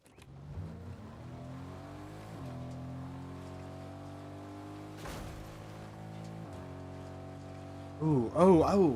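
A car in the Fortnite video game, a steady engine hum that climbs through several gear-like steps, with a sharp revving burst near the end.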